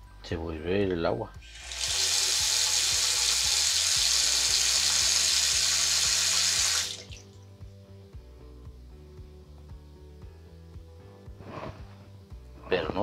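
Tap water gushes loudly into a clogged bathroom washbasin for about five seconds, then stops abruptly, with a voice speaking briefly before and after.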